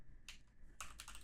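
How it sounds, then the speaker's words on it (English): Faint keystrokes on a computer keyboard come in a few quick clustered taps with brief pauses between them, quiet and close. "I'm going to type in"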